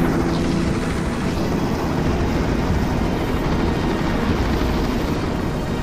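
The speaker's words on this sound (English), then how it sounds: "Dracon class attack helicopter, a tank killer" Dracon class attack helicopter, a tank killer, in the VR game Phantom: Covert Ops, giving a steady, loud rotor and engine drone that stays constant throughout with no talk over it.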